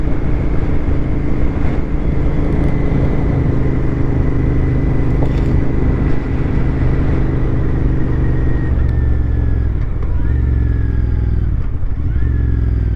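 A cafe racer motorcycle's exhaust drones steadily while riding, a loud continuous engine note with wind rush, rising and falling slightly as the throttle shifts near the end.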